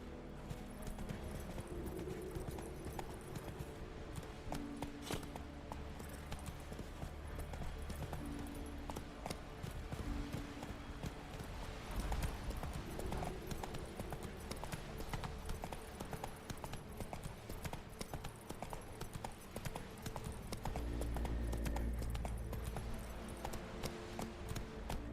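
Hooves of a horse galloping in The Witcher 3 clip-clop in a fast, steady rhythm through the whole stretch, with game ambience underneath and no one talking.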